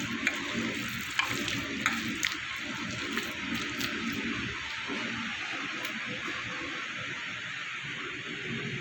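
Flat papaya pakora fritters in a besan, rice flour and cornflour batter frying in hot oil, a continuous dense bubbling sizzle with faint crackles near the pan.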